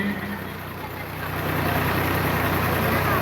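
A tractor at a tractor tochan pulling contest idles nearby with a steady low rumbling drone that grows slightly louder, carrying on alone without talk.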